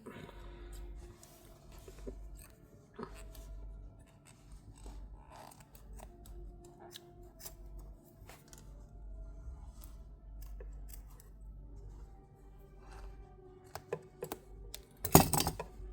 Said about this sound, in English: Just cut the yarn and you're done.